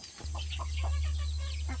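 A Korean native hen clucks softly in a nesting box, short low calls repeating over a loud, steady low hum.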